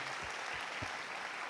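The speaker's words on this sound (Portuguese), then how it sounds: "A salva de palmas ao Senhor." A church congregation applauds during a worship service, a steady, fairly faint wash of many hands clapping with no break.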